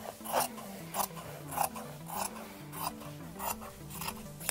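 Scissors snip repeatedly through fabric for a crocheted tote bag, about eight crisp rasping cuts in a steady rhythm, close and moderately quiet, with a soft musical tone running underneath.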